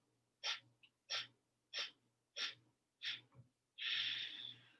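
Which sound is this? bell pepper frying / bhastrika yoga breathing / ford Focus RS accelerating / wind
bhastrika yoga breathing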